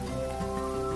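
Steady rain in the farming video game Grimshire, a constant soft patter with a faint tonal music bed underneath, no voices.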